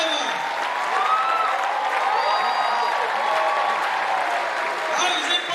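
A large crowd in a university lecture theater applauds a standing survivor, steady clapping mixed with a prominent voice speaking over it and occasional whoops.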